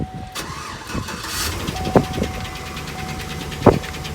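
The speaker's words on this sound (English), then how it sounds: "So I gave Nate the honors of starting the Tahoe for the very first time" A Chevy Tahoe PPV police-package SUV, just towed home from an auction lot, cranks over and fires up for the first time, with starter bursts near 2 and 3.7 seconds over a steady engine hum, close and fairly loud.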